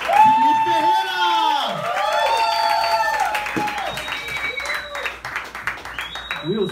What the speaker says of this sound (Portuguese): Receba com essa linda energia, lindo aplauso